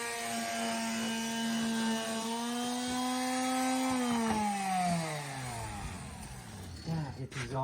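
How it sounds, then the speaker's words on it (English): Wood pieces being sanded with a power sander in a shop during a 1965 Chevrolet C10 restoration, a loud steady whirring motor whine that holds, then falls in pitch as it slows and stops near the end. "get these all sanded up and ready for stain for tomorrow"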